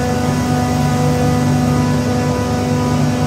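A chiller with its compressor and six condenser fans running together gives a steady, loud mechanical drone with a low hum and constant broadband whir, unchanging throughout with no voices.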